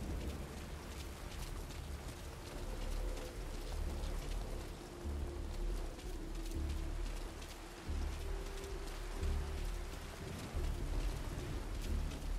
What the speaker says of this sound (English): The rain was coming down just as hard the day we met Paz.